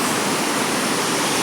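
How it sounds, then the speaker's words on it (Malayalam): A rain-swollen roadside stream, full after a single downpour, rushes loudly and steadily close by, a dense unbroken roar of water with no voices. "തോട്ടിലെ വെള്ളം കണ്ടോ"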